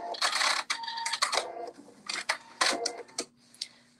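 Close sewing machine stitching around a kimono seam in a series of quick, uneven bursts with short pauses between them, no voices.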